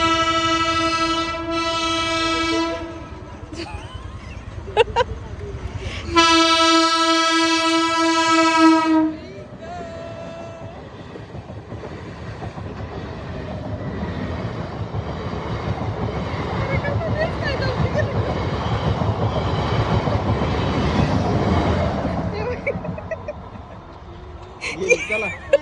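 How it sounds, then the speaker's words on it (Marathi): A train sounds two long, loud horn blasts, then rumbles past with rising clatter and rolling wagon noise that swells and fades; people talk intermittently nearby. "ट्रेन आली."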